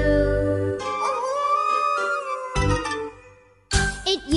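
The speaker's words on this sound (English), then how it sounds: "my beauty sleep was shattered by that crazy hound's aroo" A dog howls in a long, wavering aroo with harmonics, followed by bursts of yips and barks, loud and close.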